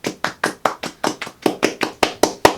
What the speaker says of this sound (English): quick little applause for her